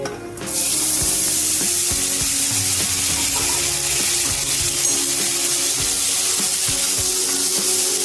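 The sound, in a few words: green peas added and frying in ghee with cumin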